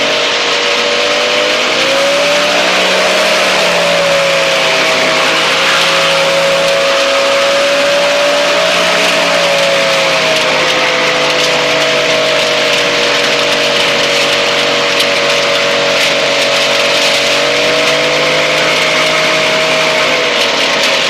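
A light experimental aircraft's engine revs up toward about 6,000 RPM for takeoff, a steady loud droning whine with gently wavering pitch held for the whole stretch, close and continuous with no talk over it.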